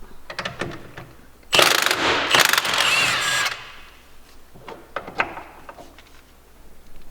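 Mechanical work on the lower suspension bolt of a Ferrari being undone at home, with a loud burst of harsh ratcheting and clattering for about two seconds, surrounded by quieter clicks and taps of tools close by.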